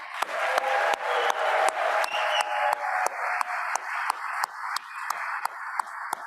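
Audience applause at a large conference in Toronto featuring Maryam Rajavi: a dense crowd clapping in a steady, rhythmic beat, with sharp claps regularly spaced over a sustained roar of hands that fills the hall.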